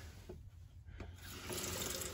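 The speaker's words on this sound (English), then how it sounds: "This is the hot water side, nice flow." Hot water runs from the sink faucet of an Airstream Safari RV, a soft steady hiss of flowing water that swells slightly louder toward the end, recorded close and without talk.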